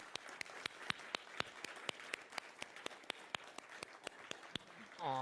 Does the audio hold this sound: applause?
yes